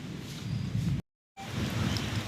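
Steady moderate rain pours outdoors in Jharsuguda district during a thunderstorm, a dense continuous hiss with low rumble, broken by a brief silent gap midway.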